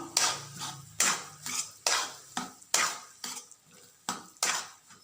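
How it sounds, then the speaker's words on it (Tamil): A spoon scrapes and stirs thick pumpkin halwa in a pan with repeated rhythmic strokes, close by, about once every half second. "இப்போது இதை நல்லா கிண்டிக்கிட்டே இருக்கணும்."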